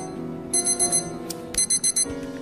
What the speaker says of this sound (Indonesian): tiba-tiba alarm berbunyi